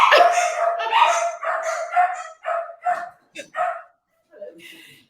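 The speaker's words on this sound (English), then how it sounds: "Okay, my dogs are back." A dog barks repeatedly in a quick series of sharp barks, close by, then quiets, followed by a few soft whimpering sounds.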